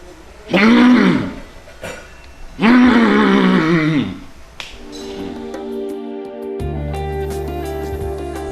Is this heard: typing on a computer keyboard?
no